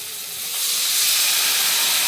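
Turmeric and spices hit hot oil in a pan, a loud broad sizzling hiss that swells within the first second and then holds steady at close range.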